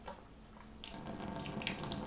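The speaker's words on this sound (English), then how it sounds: "And then for boiling water, you just have to press this button and twist." Boiling water gushes from a boiling-water tap in a steady stream that starts suddenly partway through, with faint splashing and a few clicks over a low hum.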